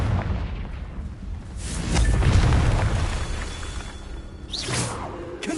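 A Confringo fire spell in Hogwarts Legacy erupts with a deep, rumbling boom and a whooshing swell, then a second sharper burst near the end, all without speech.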